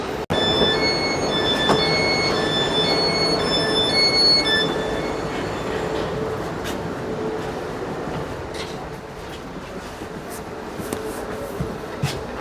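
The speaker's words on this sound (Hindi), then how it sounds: "ये लोकल ट्रेन है, दिखने में ऐसे लग रही है जैसे सिटी टू सिटी वाली ट्रेन होती है" A local train arrives at a station in Warsaw, Poland, producing a steady rolling rumble with faint high squeals and brief tones early on, close and continuous and slowly fading, with no talking.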